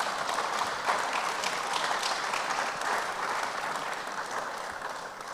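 At SEPLAT Technology Week 2023, an audience applauds to welcome a speaker, a thick, even wash of clapping that holds steady for several seconds and eases slightly toward the end.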